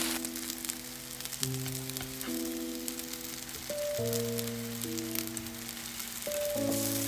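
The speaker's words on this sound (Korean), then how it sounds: "기름을 두르지 않은 팬에 유장 바른 더덕을 올려 노릇노릇 구워주세요" Deodeok roots brushed with seasoned sesame sauce sizzle in a dry, oil-free pan as they grill golden, a soft steady crackle under background music.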